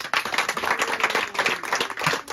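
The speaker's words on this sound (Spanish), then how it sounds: "También un aplauso para la Santa Cruz." Crowd clapping in honour of the Holy Cross during a Tecuanis village celebration in Chistiopa; brisk, dense hand claps fill the short stretch at close range with no voices.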